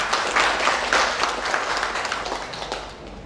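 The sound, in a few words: audience applause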